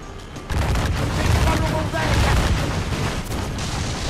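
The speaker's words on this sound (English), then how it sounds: "He has rapid-fire cannons," Rapid-fire ship cannons boom in a naval battle in Assassin's Creed 4: Black Flag, a dense, continuous barrage of loud overlapping blasts with a sharp onset after the first half second.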